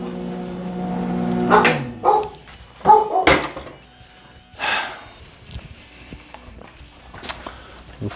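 A dog at a home workshop gives a few sharp barks mixed with snorts and shuffling footsteps, loud and close, over a fading low hum.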